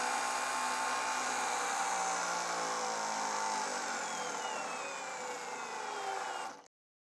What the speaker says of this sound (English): So I got to spool the dyno up first and then we'll let this pruning saw take over from there.